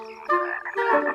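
A frog gives a single short croak, close and clear, with a rough buzzing tone that swells midway and holds to the end, with no voices around it.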